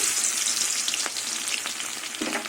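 Crushed garlic and green chillies crackle loudly in hot oil with dried red chilli, a dense bright sizzle running throughout, broken by a few scraping stirs.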